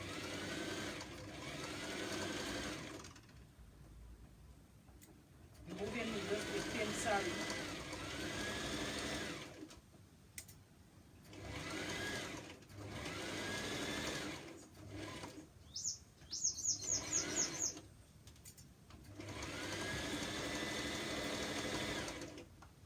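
Bursts of sewing-machine stitching on a sewn top, several runs of steady whirring broken by short pauses, with a person talking in between runs.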